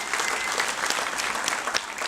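A graduation audience at a WyoTech ceremony in Daytona Beach claps in a dense, steady burst of applause from many hands that lasts about two seconds.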